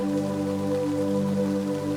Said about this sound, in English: The sound of the rain softens as you move forward